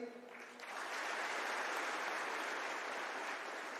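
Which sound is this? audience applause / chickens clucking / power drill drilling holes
audience applause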